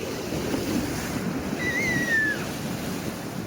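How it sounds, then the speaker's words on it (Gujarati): Rough sea surf churns at Gomti Ghat in a steady, fairly loud rumble of waves and wind, with a brief whistling tone rising above the wash midway. "તો દરિયો ગાંડો થયો છે, તમને દેખાય જો પાછળ. હવે ઉપરથી મોજા આવે છે આમ."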